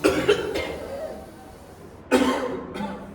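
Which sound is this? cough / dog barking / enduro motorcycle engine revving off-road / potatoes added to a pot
cough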